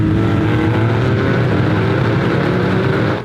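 Race cars at the Nürburgring 24h, including a Porsche 911 GT3 R among a field of 132 GT3 cars, roar past in a loud, sustained engine drone with a slowly rising pitch that fades at the very end.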